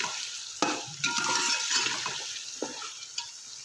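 Ginger-garlic paste frying in a pan for chicken pulao, a steady close sizzle with stirring scrapes and a few light clinks of a utensil against the pan.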